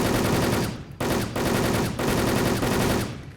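Automatic gunfire from the online shooter Wolfteam rattles loud and close in three long, dense bursts separated by brief pauses, with no voices over it.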